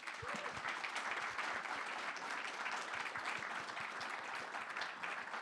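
A conference audience at an MIT Sloan space industry event applauds its panelists, a dense, steady wash of many hands clapping that holds at an even level for several seconds with no talk over it.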